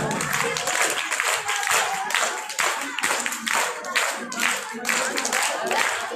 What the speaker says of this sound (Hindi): जोरदार तालियां यार, आपकी तालियां बहुत कम है